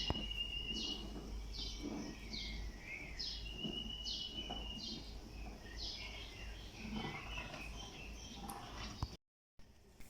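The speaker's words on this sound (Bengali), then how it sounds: "এই যে সকাল হয়ে গেছে, পাখির কিচিমিচি ডাক শোনা যাচ্ছে" Birds chirp in the morning near an outdoor event kitchen, a string of short, high, repeated calls at a moderate distance over a steady low hum, with no talk.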